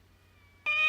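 A cat meows in the video game Corpse Party: Book of Shadows, one clear, loud, sustained call that breaks in sharply after a near-silent stretch.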